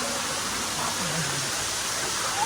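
Water from the Shaktikhor waterfall rushes as a steady, broad roar, continuous and fairly even throughout with a faint low tone briefly rising underneath; no talking.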